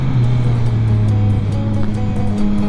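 Yamaha MT-09 SP motorcycle engine droning steadily at close range while riding winding roads, a loud continuous rumble with no talk.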